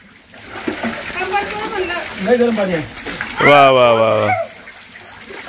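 Water splashes in a hot spring bathing tank at a temple, a soft wash of sound mostly masked by nearby voices, including a drawn-out exclamation.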